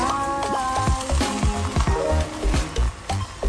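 Veg dum biryani rice being gently turned over in a pot, soft scraping and clinking strokes in an uneven rhythm over a faint sizzle, close by with no talking.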